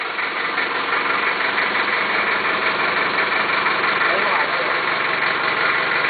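A car engine idles steadily and loudly throughout, a constant rumbling drone with people talking over it.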